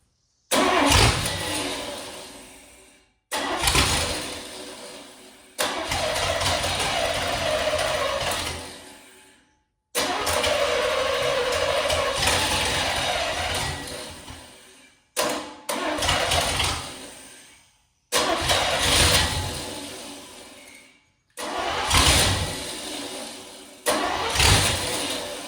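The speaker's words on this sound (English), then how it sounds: "it's like it's firing and then shutting off" 1977 GMC K35 truck engine cranking and catching repeatedly, each burst roaring briefly at close range then cutting out, with short silent gaps between about six attempts.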